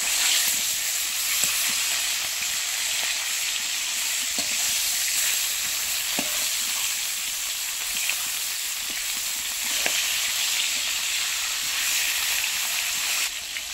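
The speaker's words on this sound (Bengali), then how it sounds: "এই ট্যাংরা মাছ তো ভাজতে বেশি সময় লাগে না" Tangra fish, turned to fry the second side, sizzles in hot oil with a dense, constant hiss and scattered soft pops and crackles, close and unbroken, with no voices.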